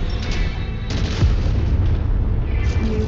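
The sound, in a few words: explosion of destroyed target, MechWarrior 5 Mercenaries video game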